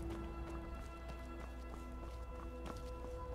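Horse hooves in Skyrim clop in a quick, uneven rhythm, fairly close and moderately loud over a steady low background hum.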